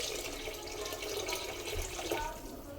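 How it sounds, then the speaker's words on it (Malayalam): Water poured into rice in a cooking pot as it is set to cook, making a continuous near splashing and gurgling that runs the whole time. "ചോറ് വേവാനുള്ള വെള്ളം ഒഴിച്ച് കൊടുക്കുകയാണ്"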